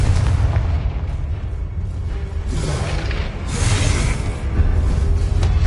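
Confringo blasting spell going off in the Hogwarts Legacy video game, a loud rumbling boom with bursts and whooshing energy swelling around the middle and end, amid continuous dense game action.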